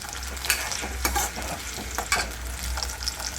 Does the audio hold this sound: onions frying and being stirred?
yes